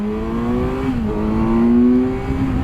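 A 2011 Kawasaki Ninja 1000 inline-four motorcycle revs steadily and loud as it pulls away, its engine note climbing in pitch, dipping briefly at a shift and then rising again, with no one talking.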